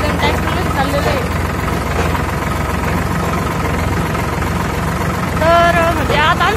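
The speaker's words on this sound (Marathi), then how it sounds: "आम्ही आता सगळेजण ट्रॅक्टरमध्ये चाललेलो आहे" A farm tractor engine drones in a steady low rumble as people ride home in it through the countryside. Voices talk over the continuous vibration.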